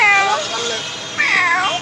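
A person imitates a cat's meow with two drawn-out, wavering mews in a high voice, close and loud, as part of an animal-sound challenge game.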